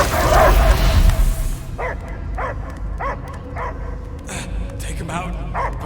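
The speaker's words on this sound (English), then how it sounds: "I hear only barking." Repeated dog barks ring out in the Guardians of the Galaxy video game, a regular series of sharp barks after an initial burst of noise, under game ambience and voices.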